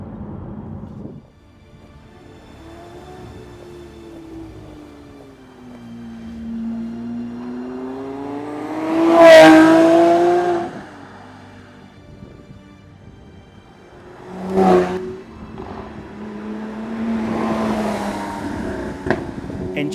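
A Lamborghini Aventador Ultimae V12 engine revving while driving, a loud rising and falling drone with sharp roaring bursts and gear changes, swelling and fading as the car pulls away and returns.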